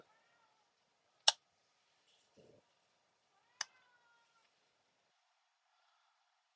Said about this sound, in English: Sorry if you hear him meowing in the background.